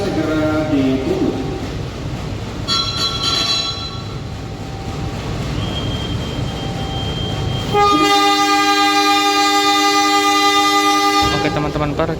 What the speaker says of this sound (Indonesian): perjalanan kereta api Kahuripan saat ini masuk stasiun Klaten